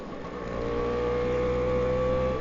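A 1962 Lambretta Li 150 Series 3 scooter being ridden on a road rally, its small engine holding a steady buzzing drone with a faint rise in pitch, close and continuous.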